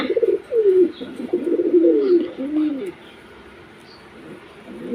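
An agitated Mayurpankhi pigeon coos in a run of throaty, rolling calls up close, then falls quiet into a faint background.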